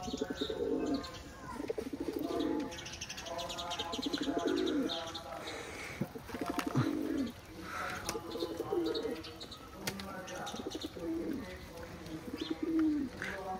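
Khulna high-flying pigeons coo in repeated low, throaty rolls while feeding on grit, close and clear with a few light chirps, and someone talks intermittently over them.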